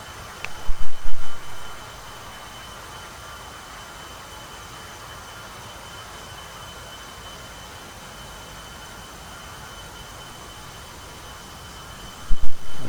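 An A-10C jet flies low over an aircraft carrier in a flight simulator game, giving a steady, even whooshing engine drone throughout, with brief louder rumbling swells at the very start and end.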